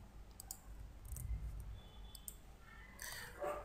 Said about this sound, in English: Now let's just type